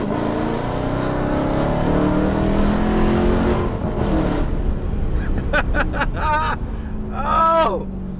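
A Dodge Hellcat's engine roars loudly and continuously as the car accelerates hard, a deep, sustained rumble from close by. Near the end a voice breaks in over it with an excited shout.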